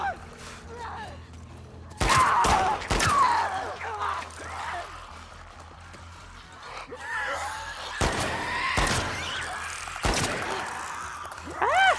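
Gunfire in The Last of Us Part II: a few loud close shots in quick bursts, then more spaced single shots, over voices and tense game sound.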